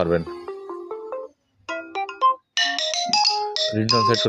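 An imo app phone ringtone plays loudly up close, a bright synthetic melody in short phrases separated by brief pauses.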